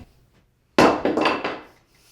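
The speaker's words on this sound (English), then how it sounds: "So I'm using wood glue and a brad nailer and a 1-inch brad nail, and I'm just popping them in all the way down." A brad nailer fires a 1-inch brad into wood with one sharp, loud bang, followed by a few quick rattling knocks that fade within about a second.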